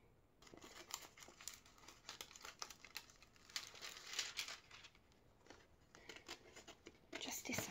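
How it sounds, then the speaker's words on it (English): Scissors trim around a temporary tattoo sheet, with a series of close, quiet snips and paper crinkles in irregular bursts, accompanied by soft, faint handling noise. "Just decided to trim this a bit closer so I can work out exactly where I want it to go."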